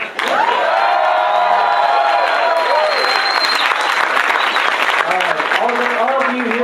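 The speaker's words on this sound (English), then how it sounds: "we'll take whatever cheers and approval we can get" A packed audience at a town hall meeting in Meredith, New Hampshire claps and cheers in a loud, steady wave of applause with whoops, while a voice talks over the noise.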